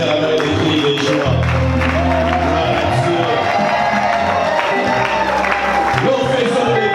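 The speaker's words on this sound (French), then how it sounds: "Est-ce qu'on peut bien le faire avec des cris de joie?" A church congregation shouting cries of joy and acclaiming: loud, sustained crowd cheering, whoops and clapping with mixed voices, continuous and close.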